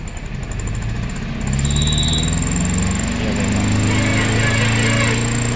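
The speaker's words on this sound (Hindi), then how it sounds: "रेस दे, ये देखो रेस देने पर इंजन की आवाज़, देखो इंजन में आवाज़ भी है" A failing Maruti Suzuki Eeco van engine in for an overhaul, its exhaust silencer full of oil, idles and then revs up partway through, a steady mechanical drone with a rattling, buzzy edge that stays loud to the end.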